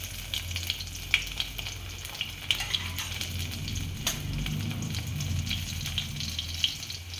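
Crushed garlic cloves sizzle steadily in a hot mustard-seed and cumin tempering for a tomato saar, a close, continuous frying hiss with occasional small pops and a faint stir.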